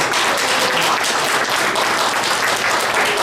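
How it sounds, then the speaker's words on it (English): Loud, dense applause from a gathered audience honoring a pastor's 70th birthday, continuous close clapping throughout with no pause. "I'd especially like to get a big round of applause for my friend Pastor Lee"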